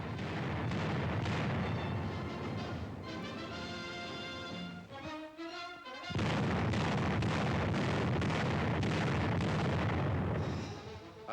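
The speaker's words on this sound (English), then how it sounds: "firing the intricate guns, trial elevation shooting through complicated forward area sights" Artillery guns test-fire at Aberdeen Proving Ground, a military weapons testing range. Loud booming reports and rumble run through most of the clip, broken by a short quieter stretch with a tonal whine before the heavy firing returns.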